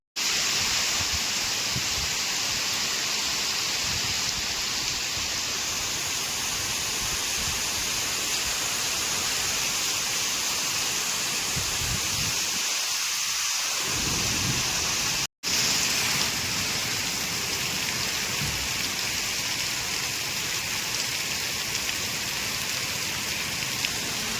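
Heavy rain in the Konkan during a sudden stormy, out-of-season downpour: a dense, unbroken hiss of pouring water that stays loud and steady from start to finish.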